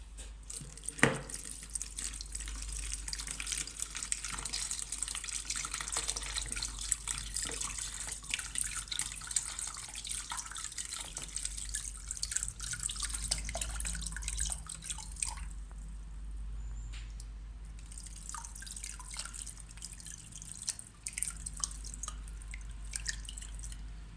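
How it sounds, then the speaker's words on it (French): Clear tap water runs into a sink to rinse tomato seeds free of their pulp. A steady, close splashing trickle with scattered drips carries on throughout, with a brief lull partway through. "il faut séparer les graines de la pulpe avec de l'eau claire."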